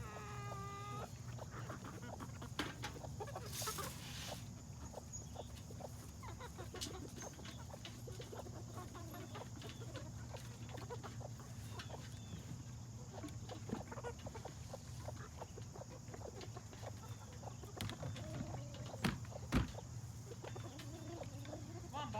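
Chickens on a farm cluck steadily at low level, with a dense scatter of soft clucks and pecking sounds over a constant background hum and no clear talk.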